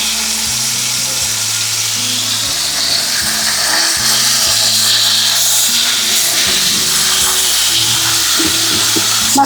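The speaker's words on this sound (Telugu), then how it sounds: "పచ్చి వాసన పోయేంత వరకు వేయించుకోవాలి." Masala for coriander fish curry sizzles steadily in a hot pan, a continuous loud frying hiss with faint low tones underneath.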